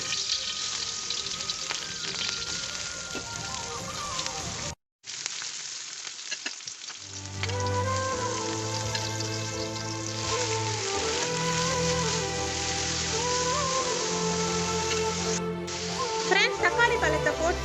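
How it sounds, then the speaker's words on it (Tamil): Spices sautéing in hot oil, a continuous crackling sizzle with a brief pause partway through, then steady frying under a tonal background that sounds like music. "எண்ணெய் சூடாகிட்ட பிறகு இந்த மங்கல உள்ள பொருட்களை ஒன்று ஒன்றா போட்டு வதக்கலாம்"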